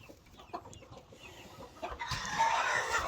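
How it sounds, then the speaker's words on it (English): Chickens cluck softly in a nest box nearby, with a few scattered calls rising into louder, higher squawking toward the end. "we get a bunch of chickens that like to hang out in the nest box"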